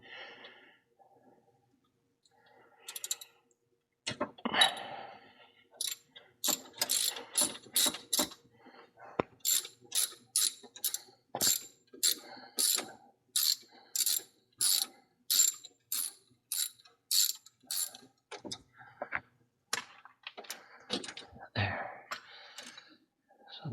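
A 13 mm ratchet wrench works a rear axle bolt on a fourth-generation F-body car: close, quiet, rapid clicking strokes in steady repeated bursts, with occasional soft background sounds.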